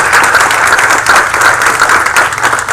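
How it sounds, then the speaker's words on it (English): A room full of people applauds 2016 CPA graduates at a township council meeting, the steady dense clapping sustained and loud for the whole moment with no voices over it. "Once again, everyone, a round of applause for our 2016 CPA graduates."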